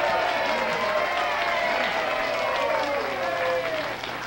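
Applause and cheering from a 1960s televised wrestling crowd after a pinfall, a dense sustained roar of clapping heard at a distance, with a voice talking over it.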